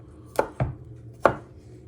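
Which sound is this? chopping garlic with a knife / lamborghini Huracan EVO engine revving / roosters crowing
chopping garlic with a knife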